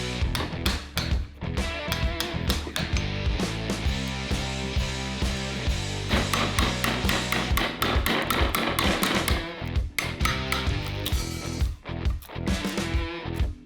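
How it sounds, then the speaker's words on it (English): Bark is knocked off a wooden slab meant as a plant stand base, making rapid, loud, percussive hammer-like strikes that repeat in irregular bursts across the clip, close by and with no voices. "we're going to go around and take the bark off of both sides"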